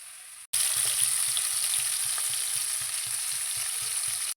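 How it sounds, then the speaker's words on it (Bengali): Paneer pieces frying in hot oil give a loud, steady sizzle that starts abruptly and runs without a break, with a faint regular pulsing underneath and no voices. "পনিরগুলোকে ভালো করে উল্টে পাল্টে একটু লাল লাল করে কিন্তু ভেজে নিতে হবে"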